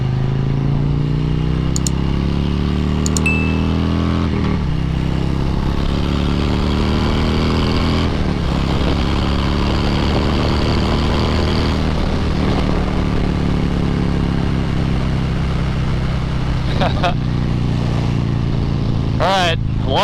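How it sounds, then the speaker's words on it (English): Milwaukee-Eight 114 V-twin on a 2020 Harley-Davidson Road King Special accelerates on the road, a loud, steady low rumble with shifting engine tones, mixed with heavy wind noise throughout. "So this is a Milwaukee 8 114 V-twin engine."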